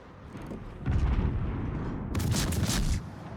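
Heavy naval gunfire and booming explosions from a warship video game, with two loud sustained bursts of rumbling blasts close together over continuous battle noise.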